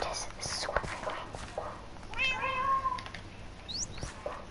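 A cat gives a single drawn-out meow at moderate volume, standing clear of a quiet background of soft rustles and hiss.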